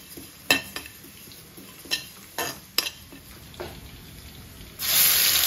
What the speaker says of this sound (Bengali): মাছ ভাজছি, আলু ভাজতেছি